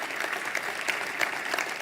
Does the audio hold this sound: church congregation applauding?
yes